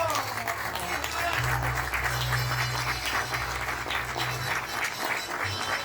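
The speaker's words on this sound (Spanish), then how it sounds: "¡Fuerte el aplauso!" An audience claps to welcome rally driver Jorge Alejandro Moroni onto the stage at the Museo de la Industria, a sustained wash of applause with a low steady hum beneath it throughout.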